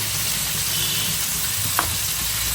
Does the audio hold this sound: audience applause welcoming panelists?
no